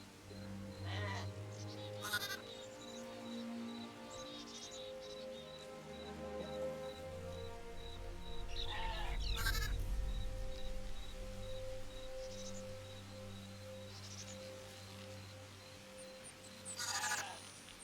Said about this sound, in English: Let's shear sheep.